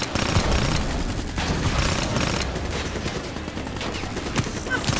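Continuous gunfire rattles in Call of Duty Black Ops 3 as a dense, rapid fusillade of shots. Booming bursts run steadily for five seconds over battle noise.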